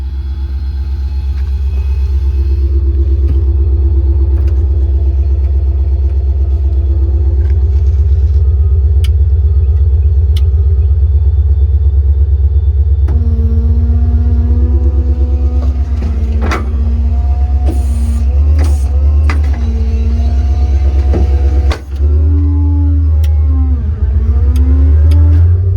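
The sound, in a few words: 2021 Ford F600 truck 7.3 gas engine running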